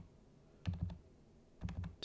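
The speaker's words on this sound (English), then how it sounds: "Let me just type in all the data." Two short bursts of typing on a computer keyboard, a few quick clicks each, close and fairly quiet over a faint room hum, with no talking.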